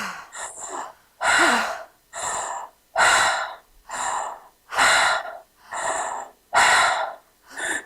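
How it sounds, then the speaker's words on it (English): Deep, forceful breaths drawn in and pushed out through an open mouth during a guided breathwork session, about eight loud gasping breaths in a steady rhythm, close and alone without talk. "we do the initial breathing through the mouth to access the lowest parts of the respiratory system"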